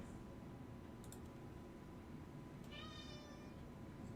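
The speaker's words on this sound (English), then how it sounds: "Sorry, that's my cat." A house cat meows in a drawn-out, rising call partway through, clear and fairly close above a steady background hum, with a few faint clicks before it.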